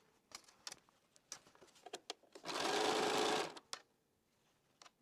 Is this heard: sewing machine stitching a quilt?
yes